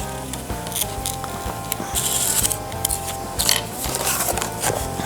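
Shears work steadily through a taped pattern in a metal fabrication shop, making a continuous close crunching, snipping rasp with small clicks and swishes and no break.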